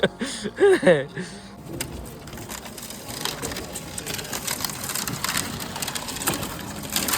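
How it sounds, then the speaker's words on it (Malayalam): Brittle cracking and crunching of ice grinding against a shikara boat's hull on Dal Lake in Kashmir, a dense continuous crackle after a brief shout at the start. "വടി ഇത് ഐസ് പൊട്ടിച്ചിട്ട് നമ്മള് പോകുന്നത്"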